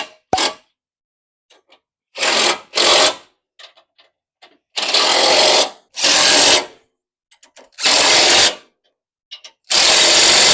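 Power tool, likely an impact wrench or drill, tightening the bolts on a Raptor off-road bumper being fitted to a base Ford Bronco. It fires in several loud bursts of one to a second and a half each, with short quiet gaps and small clicks between them.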